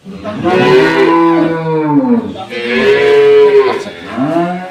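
A dairy cow on a farm gives two long, loud, close moos, one after the other, with no talking over them.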